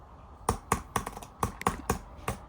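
Keys clack on an Apple Magic Keyboard for an M1 iPad Pro, a quick irregular burst of about eight crisp, close taps with no talk.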